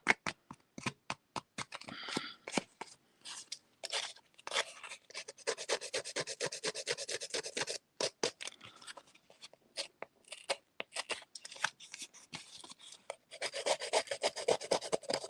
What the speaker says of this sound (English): I'm going to take my scissors and I'm going to rough it up